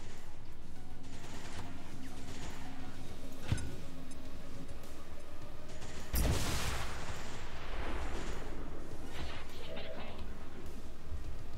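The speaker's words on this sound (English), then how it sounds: "I think it's worth the last grenade." Grenade explodes in the video game XCOM 2, a single sudden loud boom partway through, set against game ambience and a voice talking.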